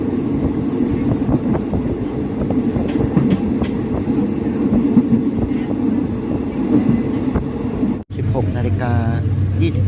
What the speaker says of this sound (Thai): ตอนนี้ขบวนด่วนที่ 86กำลังเข้าสถานีโคกครามนะครับ